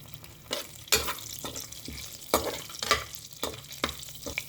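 Garlic, cumin seeds and mustard seeds fry in hot oil for a spinach and onion dish, a steady close sizzle punctuated by several sharp spatula scrapes and stirs at uneven intervals, with no talking.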